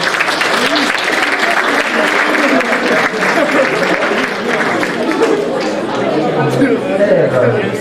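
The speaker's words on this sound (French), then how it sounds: "vous pouvez l'applaudir" An audience applauds a young trophy winner at a departmental youth judging final for livestock and horses. Loud, dense clapping carries on for several seconds, with chatter and cheering voices underneath.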